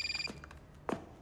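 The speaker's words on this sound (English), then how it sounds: "Eli, mute your fucking phone" A mobile phone rings during Saints Row gameplay: a brief, quiet electronic ring with a bright tonal trill, followed by a short thud.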